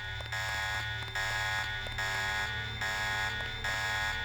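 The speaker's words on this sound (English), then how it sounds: "shockingly, the alarm is going off" An alarm in the video game Deus Ex buzzes in repeated pulses of about half a second each, a harsh, even, tonal blare that carries on through the whole stretch with no talk over it.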